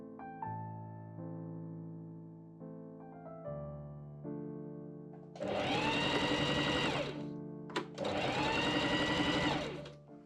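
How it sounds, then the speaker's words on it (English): Two bursts of sewing machine stitching on the waistband of Regency-style men's pantaloon trousers, each lasting a couple of seconds with a short gap between, following a quieter stretch of sustained tonal notes. "I pin and machine sew along the front and top sides of the waistband"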